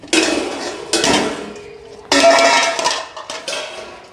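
Biryani ingredients, including beef and tomatoes, stirred in a large deg cooking pot, with repeated scraping and clattering of a metal spoon against the pot in loud bursts and no talk.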